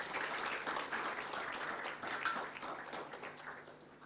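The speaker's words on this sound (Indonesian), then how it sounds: "Kasih tepuk tangan yang terbaik buat Tuhan kita" Church congregation applauding during Sunday worship, a dense, sustained round of clapping from many people that continues throughout at a fairly even level.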